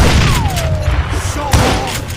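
Gunfire in the western video game Call of Juarez Gunslinger, loud booming shots over a busy battle din, with whistling ricochets sliding through the mix and a sharp blast near the end.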